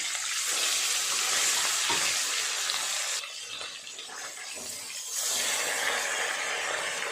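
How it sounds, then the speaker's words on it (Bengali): Bata fish frying in hot oil gives a loud, continuous crackling sizzle. It dips briefly partway through, then surges back to full strength, with no voices. "দিয়ে অপর পিঠটাও ভালো করে ভেজে নেব।"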